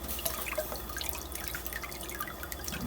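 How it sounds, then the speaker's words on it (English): Cold water is poured over the hot score mark on a glass bottle being cut, giving a steady, quiet, close trickle and splashing with scattered drips. "pour cold water over that score mark"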